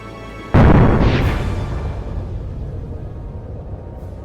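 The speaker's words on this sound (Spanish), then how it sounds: "El disparo y la detonación no fue un simple estruendo" A single sudden, loud cannon shot booms out and then rolls away in a long, fading rumble.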